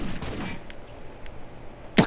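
Rifle fire in the military shooter America's Army: Proving Grounds: a few sharp reports, one early burst and a crisp loud crack near the end, separated by quiet background noise.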